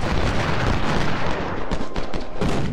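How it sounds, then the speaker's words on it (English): Artillery fire rumbles in the Civil War video game Ultimate General during the First Bull Run battle. Loud, overlapping booms and gunfire volleys roll on continuously with no pause. "artillery is coming down on the enemy"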